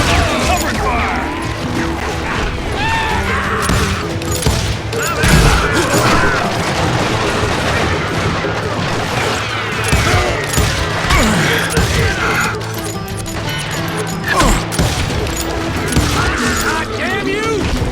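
Gunfire erupts through a chaotic Western shootout in Call of Juarez: Gunslinger, mixed with shouting voices, crashes and impacts, with dense, irregular shots and bangs continuing across the scene.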